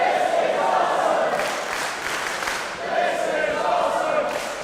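A wrestling crowd at the WCPW Pro Wrestling World Cup 2017 in Manchester roars during a Ricochet vs Keith Lee match, a loud, sustained mass of cheering and chanting that swells and dips in rhythmic waves.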